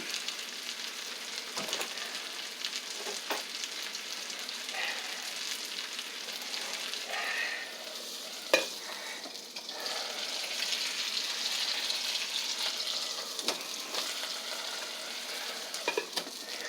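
Vegetables for a spring breakfast sizzle and fry steadily in a pan, a continuous close crackling hiss with occasional clicks and stirring scrapes throughout.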